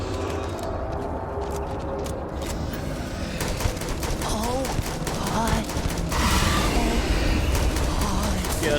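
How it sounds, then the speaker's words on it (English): Rapid gunfire in the space game Starfield: a dense, continuous fusillade of shots fired under a steady layer of game sound and music, with an excited voice talking over the battle. "Just keep firing."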